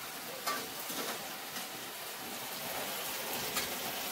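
Steady crackling sizzle of mushrooms frying in a pan, with soft irregular pops and faint kitchen clatter, no talking.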